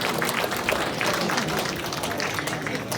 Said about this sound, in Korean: 다시 한번 박수로 소개해 주시기 바랍니다.